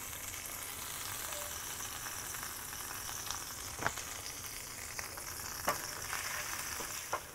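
Prime rib drippings sizzle steadily in a pan as flour is stirred in for a quick au jus, a soft, even frying hiss with a few faint clicks of a utensil and no talking.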